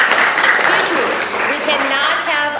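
A room full of people claps steadily for a few seconds, dense and fairly close, with some voices mixed in.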